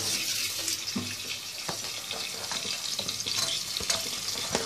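Onion, chili and capsicum frying in hot oil for street-style veg noodles, a steady broadband sizzle and hiss with occasional stirring clinks and scrapes, close and fairly loud, no talking.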